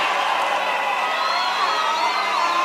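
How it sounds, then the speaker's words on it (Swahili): A large crowd cheers and whoops for President Museveni at the launch of the Kisumu–Malaba SGR railway, a continuous, dense roar of voices. "Wapi makofi ya mzee"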